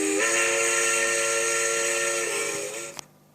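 A steam locomotive's whistle in the Trainz railway simulator game blows as one loud, steady multi-tone blast lasting nearly three seconds, then cuts off abruptly, leaving a soft hiss.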